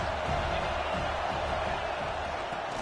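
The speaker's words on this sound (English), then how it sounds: "this crowd is turning it up a notch" A steady, roaring stadium crowd swells and cheers in the College Football 26 video game during a rainy game, a continuous wash of distant noise filling the whole moment.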